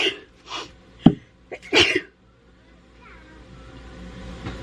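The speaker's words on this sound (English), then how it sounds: "That's probably one of my main pregnancy symptoms, is sneezing." A pregnant woman sneezes, with a few sharp bursts close and loud in the first two seconds before quiet room tone.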